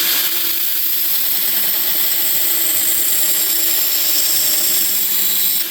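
A belt grinder plunge-grinds a bevel into a knife blade, giving a loud, steady abrasive roar with a high whine that holds unbroken throughout, with no talking.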